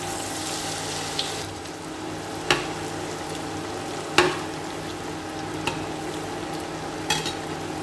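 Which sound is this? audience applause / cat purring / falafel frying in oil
falafel frying in oil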